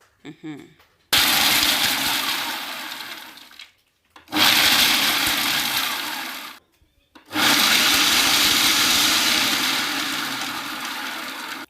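A blender pulsing seeds whirs loudly in three long pulses, each starting abruptly and trailing off, with short silent gaps between bursts.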